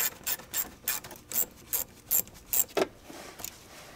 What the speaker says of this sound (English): Using a 7mm socket or a flathead screwdriver, loosen the lower radiator hose clamp.